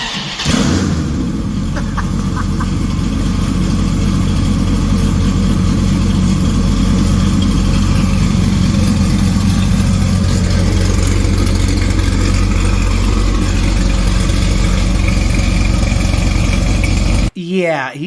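A loud Dodge Viper with heads and an aftermarket cam idles close by, its lumpy, rumbling tone holding steady for the whole stretch before cutting off near the end. Someone talks over it.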